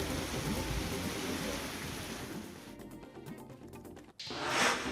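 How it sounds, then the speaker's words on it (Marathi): Heavy monsoon rain in Washim district pours down in a dense, steady hiss with a gusty, blustery rumble of storm winds beneath, briefly thinning before surging back louder. "वाशिम जिल्ह्यात वादळी वाऱ्यासह मुसळधार पाऊस"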